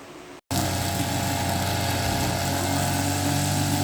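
A newly bought grass cutter starts up after a brief pause and runs steadily, a loud, close, continuous buzzing engine drone with no talk.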